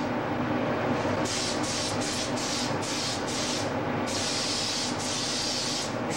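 Steady hissing spray from a spray gun applying a foam coating, set to a horizontal pattern, running in repeated bursts with brief pauses, loud and close over a continuous background rumble.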